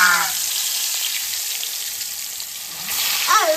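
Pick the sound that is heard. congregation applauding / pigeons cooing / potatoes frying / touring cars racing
potatoes frying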